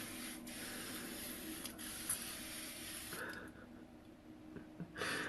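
Face mist or setting spray from a Nyx full-face makeup routine being spritzed onto skin, a few hissing sprays with short soft bursts and rubbing in between, quiet and close.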